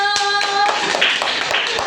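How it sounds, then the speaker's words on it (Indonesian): Applause from a classroom group, a steady patter of many hands clapping together at close range, with faint voices mixed in. "Tepuk tangan untuk kelompok Yusuf."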